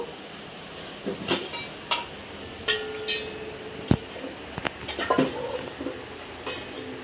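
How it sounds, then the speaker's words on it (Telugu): A metal pan is set down on a kitchen stove before cooking chilli, giving a few sharp clanks and clinks scattered among quieter rattles of cookware, close and without talking. "ఇప్పుడు మనం ముందుగా ప్యాన్ పెట్టాము"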